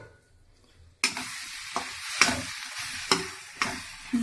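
Vegetables cook in a pan, with a faint quiet hiss that gives way to bursts of sizzling and scraping as they are stirred, about five strokes spread evenly across the span.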